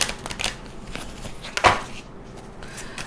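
Tarot cards being shuffled close by, giving soft rapid riffling and flicks with one louder snap of cards partway through, then quieter handling.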